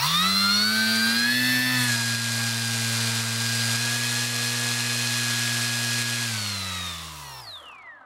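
A T-Motor AT2306 KV2300 brushless motor with a 7x3.5 prop on 2S runs up to a steady, loud whine with a low drone for several seconds, then spools down at the end.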